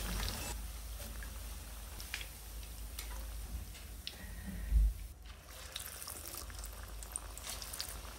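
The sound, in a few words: pakoras half frying in hot oil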